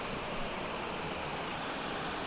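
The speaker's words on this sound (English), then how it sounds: "you come across this like little waterfall" A small waterfall beside a river along a country road in the Victorian high country, a steady broadband rush of falling water, close and continuous with no voices.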